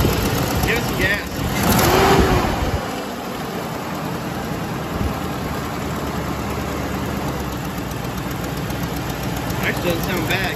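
A Chevrolet Silverado pickup engine gets a brief burst of gas, roaring up for a moment near the start, then drops back to a steady, rumbling idle.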